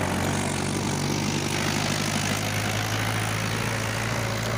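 A Mahindra 585 XP tractor with interlock hauls a fully loaded trolley of about 22,000 kg, its engine giving a loud, continuous low drone close by, with no break and no speech.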